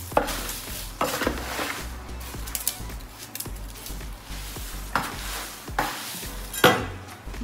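Sauce being mixed with salt in a bowl for papad, with irregular scraping and clinking of a spoon against the dish, occasional sharper knocks, close and fairly quiet with no talk.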